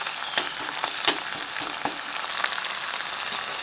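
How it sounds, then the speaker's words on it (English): Onions sautéing in a little oil with ginger garlic paste just added, a steady close sizzle with soft crackles and occasional stirring scrapes, no voices. "Sauteed the onions, we're going to add in the ginger garlic paste."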